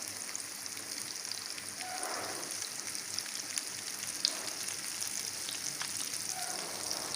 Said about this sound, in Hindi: चलिए इसको फ्राई करते हैं।